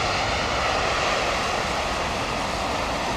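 An airliner's engines roar on reverse thrust just after landing in heavy rain, a loud, dense, steady rush that stays close and unbroken throughout.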